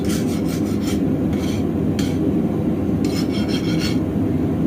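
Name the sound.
file skating across hardened steel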